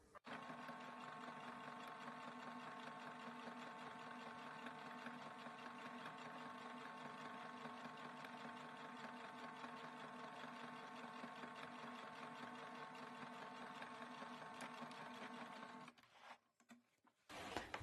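A sewing machine topstitches a flat-felled seam with a steady, even whirring and rapid needle chatter that runs continuously for about sixteen seconds, then stops, leaving a few faint handling sounds.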